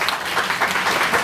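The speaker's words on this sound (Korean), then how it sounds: "박수 한번" Applause from the crowd at a Korean patriotic rally over election fraud, a short burst of dense clapping, moderately loud and continuous with no talk over it.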